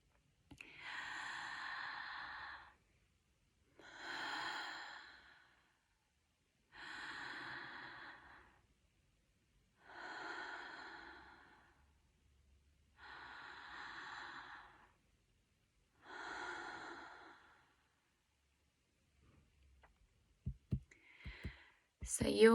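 Conscious connected breathwork demonstrated as six evenly spaced breath cycles, each with an emphasized, audible inhale flowing into a relaxed exhale, close and clear in a quiet room, with a few clicks at the end.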